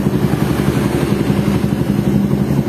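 A Suzuki Satria FU motorcycle engine warms up at idle in a workshop, a steady close-up rumble with a fast, even pulsing beat and no talking.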